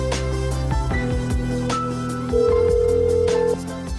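A phone call rings out through a Mercedes-Benz COMAND car system, with short electronic ring and dial tones followed by a longer steady tone, clear and close.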